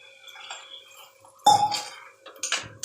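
A spoon stirs a vegetable mixture of potato, tomato and salt in a pot, making a few metallic scrapes and knocks against the pot with quiet gaps between.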